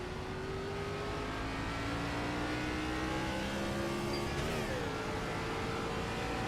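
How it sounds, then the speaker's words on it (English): Race car engine from a NASCAR Next Gen sim racing game at Michigan, a steady loud drone with rising and falling revs and gear shifts, continuous throughout with no talk. "Does the engine sound okay?"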